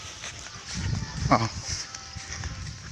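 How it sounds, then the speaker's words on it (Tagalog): A single short goat bleat rises briefly out of outdoor background noise, moderately close. "Kambing."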